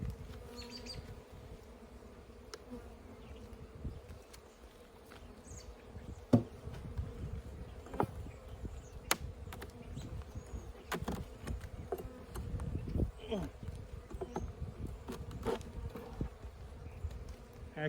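A cluster of honey bees, about the size of a baseball, buzzing steadily down in the hive cells, a continuous low drone with a few louder individual bees passing close by.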